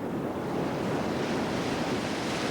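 Raging ocean waves surge and roar during a storm, a dense, continuous wash of surf and wind that stays loud throughout.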